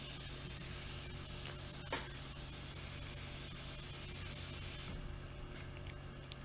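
Onions, garlic and curry leaves sauté in a pan while tapioca fry and fenugreek gravy are being made, giving a steady close sizzle and hiss that drops a little toward the end, with no talking.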